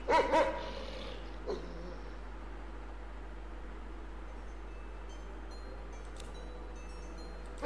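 Dog barks in a hidden object mystery game set in an old house, a few quick loud yaps at the start followed by one more bark, then a steady background hum with no further barking.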